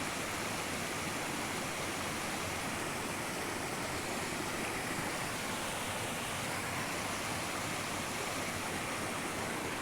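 A continuous rushing of flowing water, broad and steady like a stream or small falls, even in level throughout with no voices.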